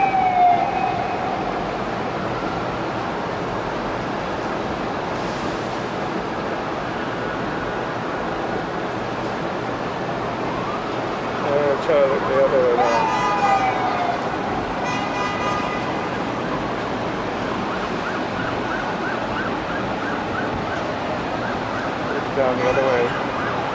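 Ambulance and emergency vehicle sirens wail faintly at a distance, rising and falling in brief bursts over a steady roar of city traffic and crowd noise, with occasional horn toots.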